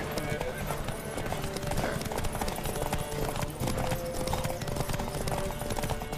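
Galloping horse hooves pound steadily beneath a dense soundtrack of music and effects in The Witcher 3: Wild Hunt, during a horse race, with voices speaking over the action.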